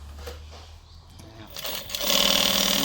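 A JUKI DU-1181N walking-foot industrial sewing machine set to 1200 rpm, heard first as a low idle hum, then revving up into a loud, fast, continuous mechanical whir.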